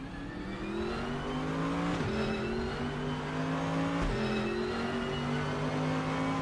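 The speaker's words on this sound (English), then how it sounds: "Big rumbly V8 under the bonnet." A V8 race car engine in the RaceRoom Racing Experience video game drones steadily at high revs, with two brief dips at gear changes, loud and continuous with no talking.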